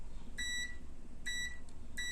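Three short electronic beeps from a multimeter in continuity mode as its probes touch, a high steady tone, with a faint tick between them over a low background hum.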